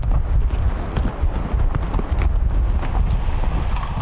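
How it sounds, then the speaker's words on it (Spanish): Horses wade across a mountain stream on a trail ride to a lagoon in the Río de Los Cipreses reserve, with loud, close, continuous splashing and clattering hooves and no talk. "tomémonos unos segundos para escuchar a nuestros caballos cruzar el estero, de camino hacia la laguna"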